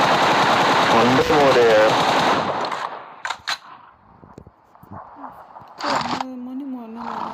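Automatic gunfire bursts in PUBG Mobile, dense and loud at first, then scattered sharp single shots and short bursts, with people talking over and between them.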